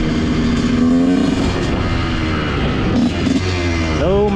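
A dirt bike accelerating hard in first gear, its engine revving loud and close with a steady rising roar that fills the whole stretch and climbs in pitch near the end.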